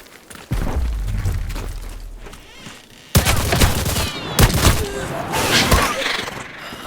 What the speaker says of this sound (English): That gunfire's close, so I better hurry up.